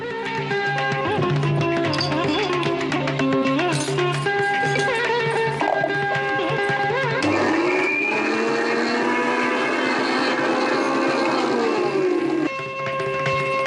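A mixer grinder runs continuously at high speed grinding green chicken masala ingredients, a loud steady whine with shifting pitch as the load changes, then stops near the end.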